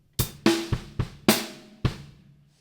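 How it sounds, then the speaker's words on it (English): A drum kit plays the second half of a beat as a short bass and snare pattern: six punchy, close hits in an uneven rhythm with short decays and no talk. "it sounds like this. You've got bass, snare, bass, bass, snare, bass."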